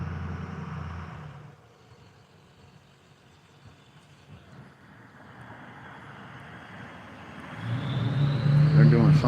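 Cars passing on a street, a vehicle rumble fading away, then a quieter stretch with wind noise before another car swells in loudly near the microphone at the end.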